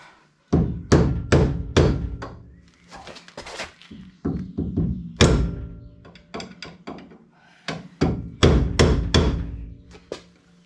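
Loud hammer blows in irregular bursts, several quick strikes in a row with short pauses between, close and sharp.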